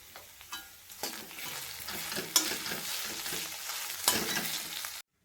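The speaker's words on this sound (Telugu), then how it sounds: "ఈ ఫ్రైలోకి అయితే కొంచెం పసుపు, సాల్ట్ వేసేద్దాం, అదే ఫ్రై అవుతుంది." A fry seasoned with turmeric and salt cooking in a pan, soft sizzling with repeated scraping stirs that grow busier, close and fairly quiet, no one talking.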